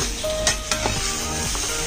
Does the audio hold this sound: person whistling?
no